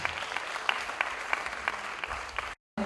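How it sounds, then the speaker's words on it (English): Audience at the Mumbai Women's International Film Festival 2013 closing ceremony applauds in a steady burst of clapping with a few sharper claps, cutting off briefly near the end. "A huge round of applause"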